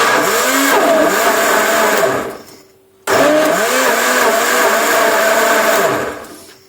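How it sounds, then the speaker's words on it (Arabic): An electric blender whirs loudly through soaked dates for juice, running about two seconds, stopping briefly, then starting again for another long burst, close and alone. "عشان صوت الخلاط هضربه وبعدين اقول لكم هنعمل ايه"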